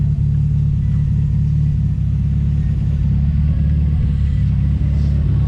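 A Ford Escort Mk2 engine running on E85 fuel idles on a dyno, a steady loud low rumble with no change in speed and no voices.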